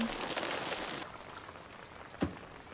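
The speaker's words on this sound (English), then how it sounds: "The rain sounds pretty." Rain falls in a scene from the Chernobyl TV series. A soft, steady patter fills the first second, then fades to a quieter hiss, broken by one brief tap.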